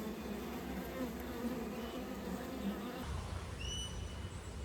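Honey bees buzz steadily at a hive as a mated queen returns, a continuous, fairly faint outdoor drone with a brief bird chirp late on.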